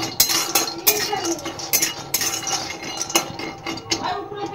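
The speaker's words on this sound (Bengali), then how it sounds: "খালি কড়াইয়ে ভেজে নেওয়া হবে" Whole spices dry roasting in an empty wok for a Bengali chicken dish, with dense, irregular clinks and scrapes of a metal spoon against the pan, close and fairly loud throughout.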